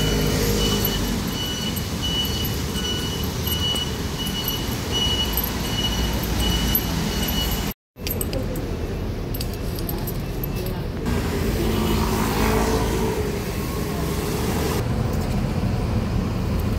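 Continuous road traffic roars along a street on a rainy day: cars, buses and trucks passing close by as a steady, loud wash of noise, with one brief dropout partway through.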